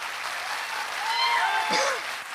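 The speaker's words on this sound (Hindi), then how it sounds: "तालियां कमजोर है, फटाफट तालियां बजाओ" A seminar audience claps quickly and steadily for a couple of seconds, with raised voices and a whistle-like cry riding over the clapping.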